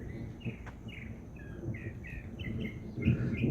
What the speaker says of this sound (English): I have a bird that's going right to town behind me somewhere,